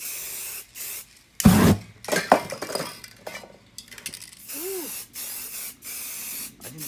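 Spray paint hissing over a stencil in a few short, close bursts, with faint clinks of a can and quieter pauses between blasts.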